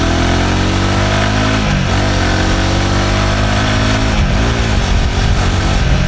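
Royal Enfield Himalayan 411 single-cylinder motorcycle engine running steadily while riding at around 40 mph, a constant loud drone that dips briefly twice as the revs shift, with no talking.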